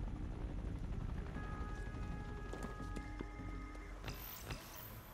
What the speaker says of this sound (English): I hear a chopper.